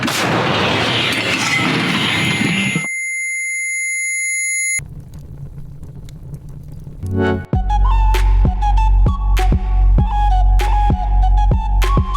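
A high steady tone and a moment of silence give way to one loud, booming artillery gun blast at a Ukrainian front-line position, followed by a string of sharp rhythmic pulses.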